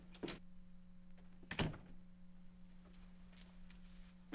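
An office door opens in a quiet 1949 office, with a soft knock and latch thunk followed by a louder clunk as it swings, over a steady low electrical hum.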